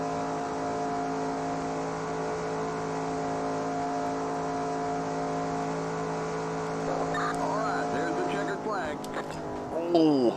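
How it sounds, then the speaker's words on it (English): Race car engine in the NASCAR Racing 2003 video game holds a loud, steady high-pitched drone, then falters and breaks up in the last few seconds as the engine blows. "Oh, and I've just blown my engine."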